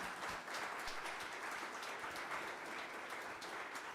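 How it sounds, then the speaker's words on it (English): Faint, steady round of applause from a symposium audience, an even wash of many hands clapping without a break, heard at a distance. "Let's give them a round of applause."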